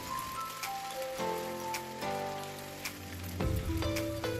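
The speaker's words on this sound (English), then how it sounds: "Next, we will add 1 tablespoon garlic and ginger paste and stir." Garlic and ginger paste fries with onions and cumin in a pan for aloo gobi, giving a steady close sizzle and crackle. Background music with stepping tones plays throughout.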